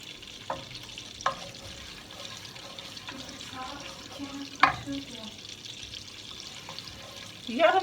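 Semolina being stirred in hot solid fat in a pan for Turkish irmik helvası, with soft scraping and sizzling and several sharp knocks of a spoon against the pan.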